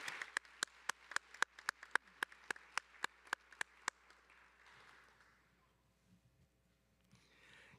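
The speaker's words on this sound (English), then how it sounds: "One more round of applause for Dr. Viet Dao." Evenly spaced, sharp hand claps ring out at a university commencement ceremony, about sixteen in a steady rhythm, then fade into a quiet room murmur.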